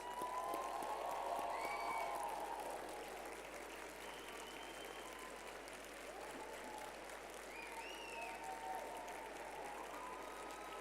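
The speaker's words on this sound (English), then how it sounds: "let us applaud you for your role in the accomplishments of your students" Faint distant audience applause at a graduate commencement, a soft continuous patter in a large space with a few whistles or calls rising above it.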